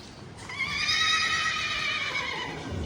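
A Sava desi breed horse on a horse farm in Punjab lets out a loud, close whinny that rises and wavers for about two seconds, with faint background noise and light hoof clatter.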